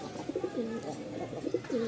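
Giribaz pigeons coo in a caged loft, with two or three throaty, rolling coos close by over a steady background hum.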